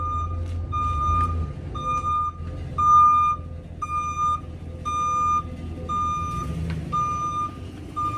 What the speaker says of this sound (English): Excuse the noise, got a van backing up.